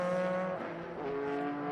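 Dekon-built Chevrolet Monza race car at Sonoma Raceway on a hot day, its engine a loud harmonic drone that sweeps and shifts pitch as it passes close by, with no voices.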